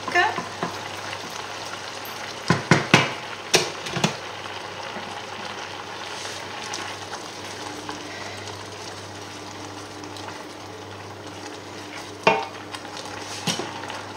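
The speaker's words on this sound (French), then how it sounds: "On va remuer notre saumon." Salmon being stirred as it fries in a pan for a risotto: steady soft sizzle throughout, with several sharp utensil scrapes and clicks against the pan near the start and again toward the end, close and fairly quiet.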